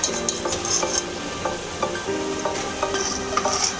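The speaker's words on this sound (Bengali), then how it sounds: "বড়াগুলো আমার ভাজা হয়ে গেছে, লাল লাল করে ভেজে নিয়েছি। এবার তুলে নিচ্ছি আমি" Golden lentil fritters for rasbora are lifted out of sizzling oil, bright metal clinks and scrapes from the utensil repeating over a continuous frying hiss.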